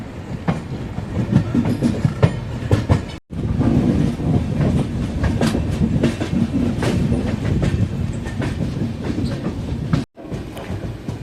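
A train rolls past close by near Karur Junction, a loud continuous rumble with clattering wheels on the rails, briefly cut off twice.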